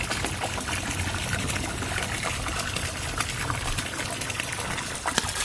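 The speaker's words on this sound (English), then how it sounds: "You'll see a little bit of wastewater coming out right there." Steady trickling and splashing of wastewater from the outlet of a Laguna Pressure Flo pond filter, continuous and fairly close with no pauses.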